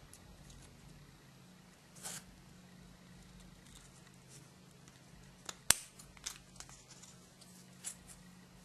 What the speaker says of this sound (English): That's cutting right off with the scissors.